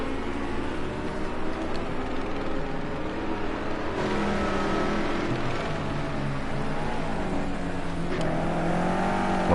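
A GT race car at Oulton Park on a hot lap during a British GT round, its engine droning and revving steadily, loud and continuous with shifting pitch as it passes.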